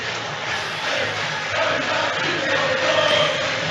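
Newcastle fans at St Mary's stadium raise a steady roar of cheering and chanting for their players, a dense crowd noise that swells slightly toward the end.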